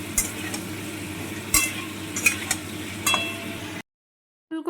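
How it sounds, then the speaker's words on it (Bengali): Cauliflower pieces frying in hot oil, a close continuous sizzle broken by a few sharp clinks of a spatula against the pan, then a brief cut to silence and a short return of sound. "হাফ হাফ করে ফুলকপি আমি এখানে ভেজে নেব।"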